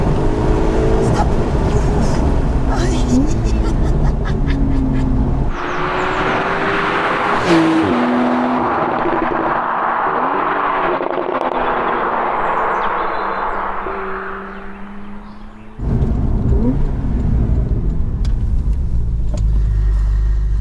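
A Porsche 911 991.2 Targa 4 GTS engine accelerating hard from inside the car, with loud rising and falling revs through several gear changes and a brief lull before it surges again.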